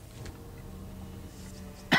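A nervous man coughs and clears his throat in one short, close, harsh burst near the end, after a stretch of quiet room tone while playing Resident Evil 4.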